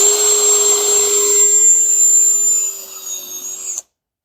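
A power drill fitted with a countersink bit whines loudly and steadily in a garage for a few seconds, the high motor pitch holding constant before it winds down and stops abruptly.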